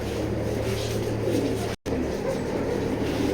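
Pigeons cooing in a loft, a steady chorus of low throaty coos close by, continuous apart from one very short dropout in the middle, with faint background noise and no speech.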